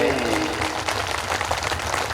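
A crowd of devotees at a Guru Purnima gathering claps in welcome for arriving guests, the dense applause running steadily under amplified sound and background voices.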